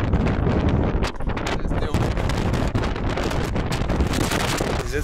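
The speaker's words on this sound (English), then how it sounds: "Show how windy could it be." Strong gusts buffet the microphone in continuous loud rumbling roars on a walk toward the port in Sicily, with brief voice fragments under the wind noise.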